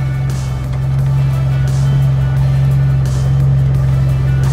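A handmade car built entirely of rosewood drives along, its engine giving a loud, constant low hum with a few airy swells of road and wind noise, and no voices.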